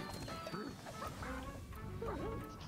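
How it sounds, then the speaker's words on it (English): Cartoonish duck quacks in the video game Ultimate Chicken Horse, a few short nasal calls scattered over busy game background sound. "Duck."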